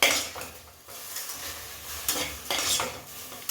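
Country chicken pieces stir-fried in a pan for a curry leaf pepper fry: a steady broadband sizzle with scraping spatula strokes and clinks of utensils against metal, close and continuous.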